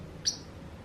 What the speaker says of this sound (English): can be a noisy bird.